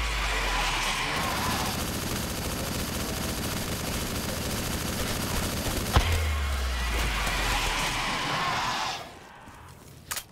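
Rapid bursts of gunfire from zombie-shooting in Black Ops 3 Custom Zombies, Pallet Town map, loud and continuous for most of the stretch with a sharp hit near the middle before fading out.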